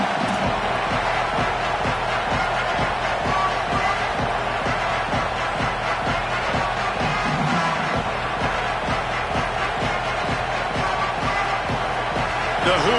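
A football stadium crowd before kickoff of a Miami at Indiana game roars in a dense, continuous wall of cheering and shouting, loud and sustained throughout with steady rhythmic pulsing underneath.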